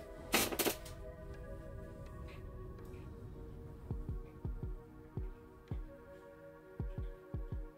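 Heartbeat sound effect in slow, evenly spaced low thumps, roughly six beats after a brief burst at the start, fairly prominent over a steady background hum.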